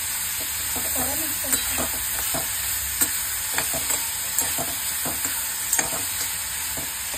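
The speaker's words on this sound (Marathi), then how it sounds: "करपायला नको म्हणून पटापट मिक्स करा" Sliced fresh mushrooms frying in a pan and being stirred briskly, a loud continuous sizzle punctuated by regular scraping and clacking strokes from the spoon, close up and without talk.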